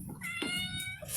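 A single short cat meow, close and fairly soft, with faint background noise.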